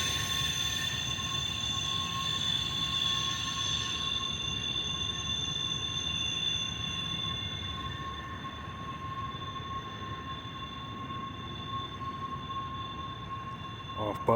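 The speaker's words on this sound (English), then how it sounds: "Third and consist on Norfolk Southern Intermodal Stack Train" A Norfolk Southern intermodal stack train, train 29A, with the Central of Georgia heritage unit NS 8101 running third in the consist, rolls steadily past, a continuous rumble carrying high ringing wheel and rail tones throughout.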